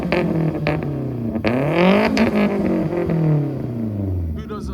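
Boris's project car at a Japanese car meet in Reading, its engine revving hard with rising and falling pitch sweeps, loud and close, with crowd chatter mixed underneath.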